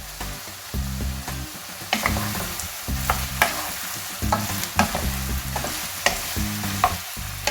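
Zucchini frying in its own oil and juices in a pan, a close, loud sizzle broken by repeated rhythmic spatula scrapes and stirring knocks throughout.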